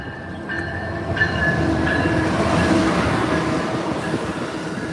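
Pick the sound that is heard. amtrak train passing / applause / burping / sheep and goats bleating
amtrak train passing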